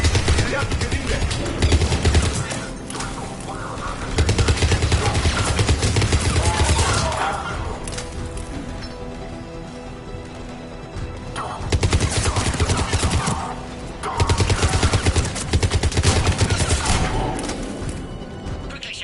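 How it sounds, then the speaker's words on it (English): Rapid automatic gunfire rattles at a checkpoint in a video game, coming in loud sustained bursts with shorter lulls between them, while game voices talk under and between the shots. "Taking fire. We're under fire."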